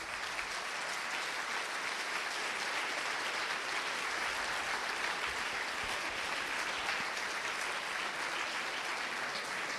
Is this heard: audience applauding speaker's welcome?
yes